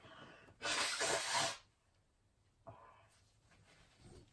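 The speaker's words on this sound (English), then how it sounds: "I'm going to have to blow my nose." A single forceful, hissing nose blow lasting about a second, followed by quieter sniffs and breathing nearby.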